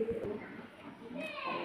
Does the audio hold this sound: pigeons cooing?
yes